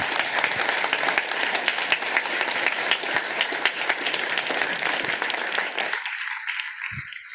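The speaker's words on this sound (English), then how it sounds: "Let's give one more round of applause for all of the speakers this evening." Sustained applause from a conference audience honouring the speakers at the 20th anniversary of the AWIPEV polar station, dense and loud for about six seconds before stopping abruptly into near silence.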